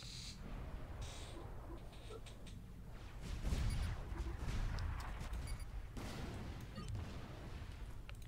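Artillery firing in the real-time strategy game Supreme Commander 2, with repeated low booms and rumbling blasts rolling together under a steady battle din, fairly faint overall.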